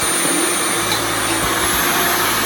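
Dyson vacuum cleaner running loudly and ramping up its suction, a dense continuous whine and roar with a low motor hum rising partway through.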